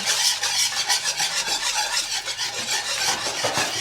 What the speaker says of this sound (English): Just add a little bit at a time and keep whisking.